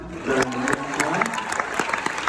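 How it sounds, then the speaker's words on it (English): Brief round of applause from an audience at a company presentation, clapping rising quickly and continuing with scattered voices over it. "a round of applause for them"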